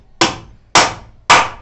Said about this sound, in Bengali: এখন ক্ল্যাম্প লাগানো হচ্ছে